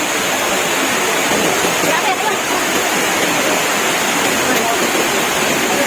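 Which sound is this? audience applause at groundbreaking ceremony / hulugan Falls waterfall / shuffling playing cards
hulugan Falls waterfall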